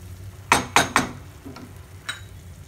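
Fried paneer being stirred into an oats mixture in a pan: three quick, close scraping clinks in a row, then a softer scrape and one more brief clink against a quiet background.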